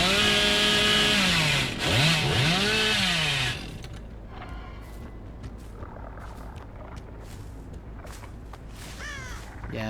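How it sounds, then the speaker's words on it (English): A killer's chainsaw in a video game revs loudly with rising and falling whines for a few seconds, then drops to a lower, rougher idle rumble that continues to the end. "listening to the chainsaw is kind of loud"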